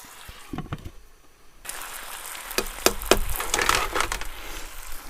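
Steaks and vegetables sizzle and crackle on a hot cooking surface outdoors on an ATV trail, a steady frying hiss broken by sharp pops and clatters, loud and close after a quieter opening.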